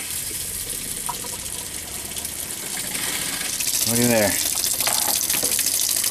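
Tap water runs steadily from a faucet fed by a newly installed RV water pump, a continuous rushing hiss that swells slightly louder midway, with a brief voice speaking over it.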